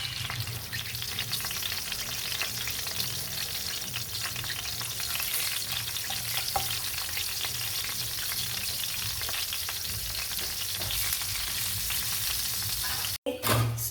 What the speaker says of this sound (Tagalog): iprito na natin yung ating sinet aside na fish